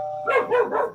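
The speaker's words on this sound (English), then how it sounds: "Sorry. Dogs." Dogs bark indoors at a doorbell: a brief steady tone opens, then three sharp, loud, close barks follow in quick succession.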